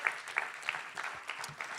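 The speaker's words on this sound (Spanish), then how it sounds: "Dele aplauso al Señor" Faint, brief applause from a church congregation, scattered claps in a short burst heard at a distance.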